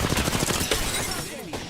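Rapid bursts of automatic gunfire rattle through an Overwatch firefight, dense and continuous for most of the moment before thinning out near the end.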